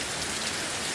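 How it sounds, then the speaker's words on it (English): Heavy rain pours during a severe thunderstorm, a dense, even roar of drops on surfaces filling the whole moment with no thunder or voices. "Look at that rain."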